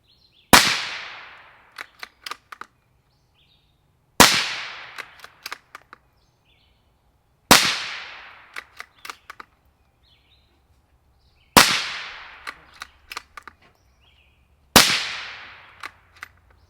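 Five suppressed 17 HMR rifle shots fired through an SD Tactical Arms M22 suppressor, each a sharp crack with a quick decaying tail followed by faint clicks, spaced about three seconds apart in a quiet outdoor setting.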